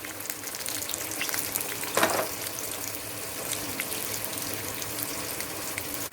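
Cumin, urad dal and five or six dried chillies frying in hot oil for a bitter gourd pickle, a steady close sizzle throughout with a brief louder spit of hissing near the middle, no talk.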